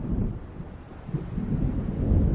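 Low thunder rumbles from an approaching storm in Alan Wake, a distant rolling swell with wind gusting beneath it, slowly building in loudness over a couple of seconds.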